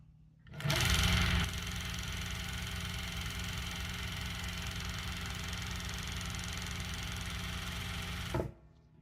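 A Merrow overlock machine runs steadily while sewing around a custom twill patch, a continuous close whirring hum with a brief louder burst at the start, then stopping abruptly near the end.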